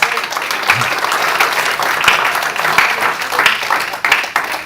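A church congregation applauds for Jesus during a sermon, a loud, dense, sustained wash of many hands clapping that carries on without pause.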